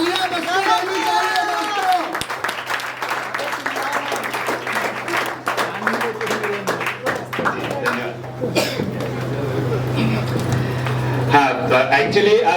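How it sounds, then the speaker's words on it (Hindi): Audience applause at a talk welcoming speaker Swapnil Tiple, a dense spread of hand claps from a crowd filling the hall, with voices and a steady hum mixed in underneath. "तालियां बजाओ दोस्तों।"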